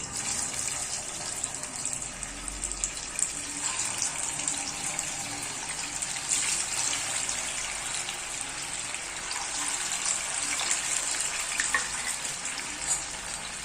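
Vada, thick lentil fritters for an idli-vada meal, sizzle and crackle steadily in hot oil in a pan on the stove, a dense continuous frying hiss that stays loud and even throughout.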